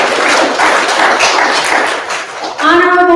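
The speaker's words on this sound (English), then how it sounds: "Clap for yourselves." A town hall audience claps in a dense burst of applause for a few seconds, and then a voice starts speaking over the room.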